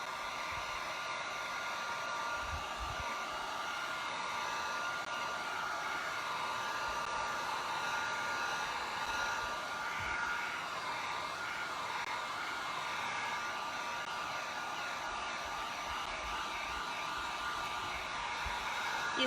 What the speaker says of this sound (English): I'm going to do a little bit of drying here.